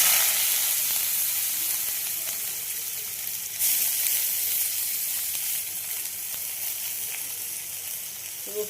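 Onion frying in oil for mixed dal, a steady, close, bright sizzle that holds evenly throughout with slight surges and faint crackles, no talking.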